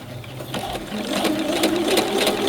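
A sewing machine runs a steady regular stitch along the corners of a fabric travel snack bag, its rapid mechanical chatter continuous and close throughout.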